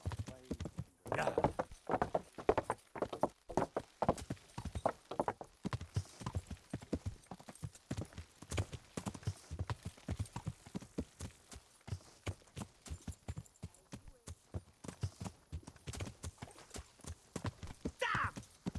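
Horse hooves clip-clop steadily in Kingdom Come: Deliverance while riding, a continuous close rhythmic patter with an occasional whinny and faint game ambience.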